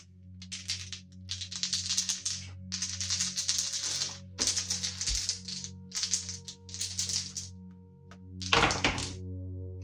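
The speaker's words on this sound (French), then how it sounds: "Il reste 4 dés à jeter." Dice thrown during a session of the board game Too Many Bones, a series of close clattering rolls and thunks on a table, each burst brief, ending in a louder final tumble, with no talk.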